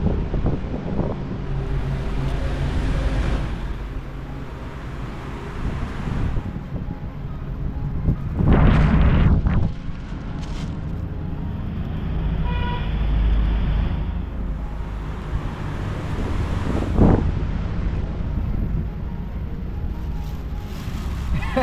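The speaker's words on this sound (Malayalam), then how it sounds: "പുറത്ത് ചെറുതായിട്ട് മഴ പെയ്യുന്നുണ്ട് കേട്ടോ നല്ല കാറ്റും വീശുന്നുണ്ട്" Strong wind buffets and roars outdoors, gusting unevenly, with a few louder bursts and faint background rustle.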